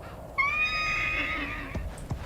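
A horse neighs in a strategy war video game, a single clear whinny lasting about a second, fairly close and loud, followed by a couple of short thuds with no talking.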